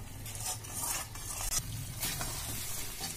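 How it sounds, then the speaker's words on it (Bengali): Lucknow-style chicken korma bubbles on high heat in a pot, a continuous low sizzling and burbling with occasional stirring scrapes, fairly soft and close. "5 থেকে 6 মিনিট এইভাবে হাই হিটে আমি ফুটিয়ে নিই"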